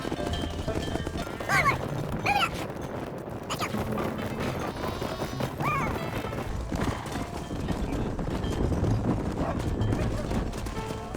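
Several horses trot and canter in a ranch scene from Red Dead Redemption, hooves clip-clopping steadily up close with a couple of whinnies, a busy game soundscape and bits of talk underneath.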